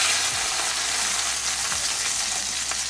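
Chicken chapli kababs fry in a pan of hot oil, a continuous close sizzle with brief stirring or turning sounds and no talk.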